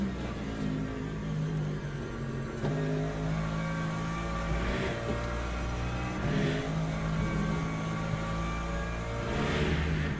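Race car engines in the sim racing game Le Mans Ultimate, with several cars droning and revving in layered, steady tones, the pitch rising and dropping as they shift and accelerate.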